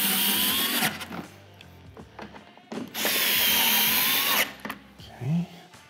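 A power tool whirs in two bursts while tightening bolts on a cargo rack for a Can-Am Defender, with clicks and handling noises between the bursts.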